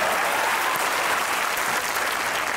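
Steady applause from a studio audience at a comedy chat show, a dense continuous wash of many hands clapping at close range.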